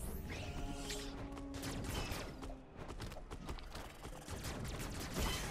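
Gunfire in the video game Metroid Dread, with rapid bursts of shots and sliding, layered over game music and mechanical effects in a continuous, busy stream.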